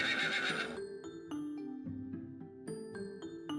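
Horses neigh and whinny loudly and close, several calls in a row with shrill, wavering pitch, with light hoof clops between them.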